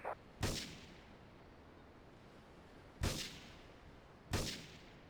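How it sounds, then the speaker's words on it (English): Three heavy booming video game gunshots ring out in Grand Theft Auto III, spaced a few seconds apart, each with a long fading echo against quiet background. "Investigate reports of gunfire and explosions."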